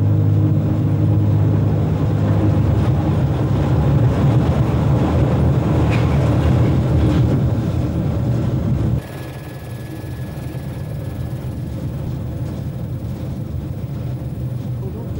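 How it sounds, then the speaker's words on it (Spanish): A Ce 6/8 'Crocodile' electric locomotive runs with its train through the Gotthard tunnel, a dense loud rumble that drops abruptly to a quieter rolling hum with a faint steady whine, under intermittent talk. "mientras el tren prosigue hacia Tessin"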